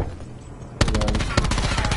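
Rapid automatic gunfire in the Call of Duty video game, a dense burst of close, loud shots beginning partway through and continuing steadily, with a second sharp report near the middle.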